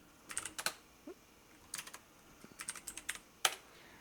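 Typing on a computer keyboard during an end-of-day trading journal routine in Excel: several quick bursts of clicking keystrokes with short pauses between them, close and clear, with no talking.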